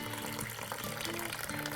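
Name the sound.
water added to bread dough sponge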